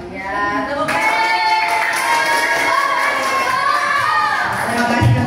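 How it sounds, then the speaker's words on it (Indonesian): Students clapping in a classroom after a group's turn, a steady, busy patter of hands with children's voices and shouts mixed through, moderately loud and close. "Ya, tepuk tangan."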